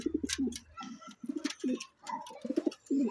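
Pet birds, pigeon- or dove-like, give repeated close cooing calls in short rhythmic bursts, with a male singing to a female.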